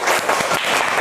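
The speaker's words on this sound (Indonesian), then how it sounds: "kasih tepuk tangan" Schoolchildren in a classroom give a quick burst of applause, a short patter of overlapping claps that is fairly close and loud.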